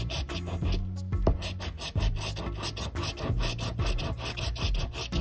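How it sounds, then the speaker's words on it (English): A scratching stick scrapes the coating off a New Jersey lottery scratch-off ticket in rapid, close, rhythmic rasping strokes that continue steadily with only brief pauses. "I'm gonna use the scratching stick from Michelle BT and her husband."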